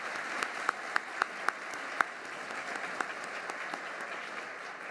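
A crowd applauds steadily at an economic forecast event, a dense wash of clapping with a few sharper individual claps standing out, heard from a moderate distance.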